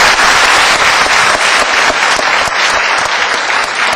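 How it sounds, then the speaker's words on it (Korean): An audience at a student debate contest final gives loud, sustained applause, dense steady clapping filling the hall with no voices over it. "열띤 토론을 벌여주신 두 팀에게 우리 뜨거운 격려의 박수 부탁드립니다"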